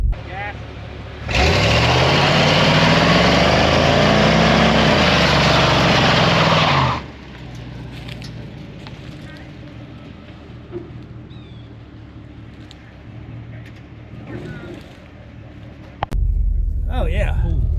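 A car engine roars loudly at high revs for about five seconds during a tire burnout, pitch rising and falling, then drops to a low idle rumble with faint voices nearby and a brief final burst.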